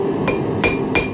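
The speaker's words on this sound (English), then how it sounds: "It's the great thing about a ball peen hammer." A ball peen hammer strikes metal at a forge in cool weather, three sharp ringing blows spaced roughly evenly over about a second, each with a bright metallic ping, loud and close.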